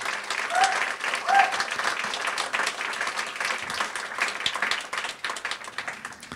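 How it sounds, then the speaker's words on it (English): An audience at the Tulsa City-County Library's 2018 Circle of Honor ceremony breaks into sustained, full applause for the honorees, dense clapping continuing for several seconds with crowd murmur and a voice mixed in. "let's give our honorees and even our past honorees a big round of applause"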